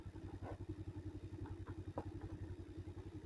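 A motorcycle ridden slowly along a rough village road in Karbi Anglong, its engine putting out a low, steady, rhythmic thrum with faint clatter over the bumps, fairly quiet and continuous.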